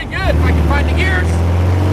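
A 1970 VW Manx-style dune buggy with a fiberglass body, its engine droning steadily and loud nearby while driving, a brief voice over the start.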